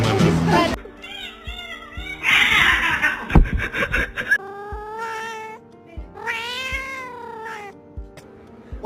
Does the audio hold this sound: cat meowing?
yes